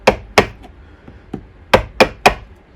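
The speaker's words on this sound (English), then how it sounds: "I'm going to use a chisel and a hammer just to gently chip away" A chisel struck with a hammer gently chips at a hydrocal block on a model railway layout: sharp, close taps at uneven intervals, some hard and bright, a few softer, no talking.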